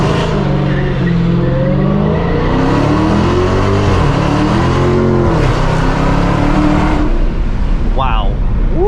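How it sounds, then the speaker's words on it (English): A 2020 Dodge Challenger Hellcat Redeye launches with launch control set at 2,000 RPM, its supercharged engine roaring loud and close as revs climb and fall through gear changes, with a brief tire squeal near the end. "And then the car just takes off in launch control."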